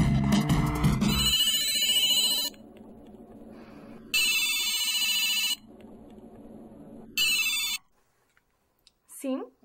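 An old-style telephone bell rings in loud bursts, three to four rings spaced by pauses, close and clear, with speech at the start and a brief voice at the end.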